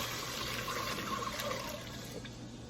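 Water is poured into a cooking pot, three and a half cups for a cinnamon roll apple pie filling, giving a steady, moderately loud splashing rush for a few seconds.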